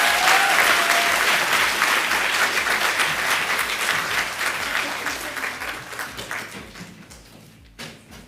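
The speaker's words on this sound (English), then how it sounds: "I think we can all give a round of applause to our ORI June graduates." A ceremony audience claps for graduating dentistry students, a dense wash of many hands that starts full and loud, then thins and fades toward the end with a few scattered last claps.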